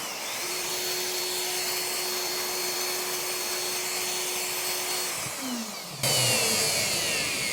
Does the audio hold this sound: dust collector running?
yes